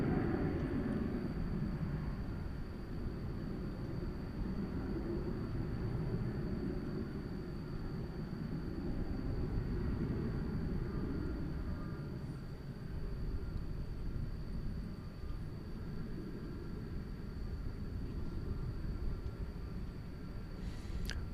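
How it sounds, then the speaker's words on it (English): An American Airlines 737-800 takes off at night from DFW Airport, a continuous distant jet roar and low rumble holding steady throughout, with a faint high whine above it. "we've got an American Airlines 737-800 off to Reno, Nevada, flight"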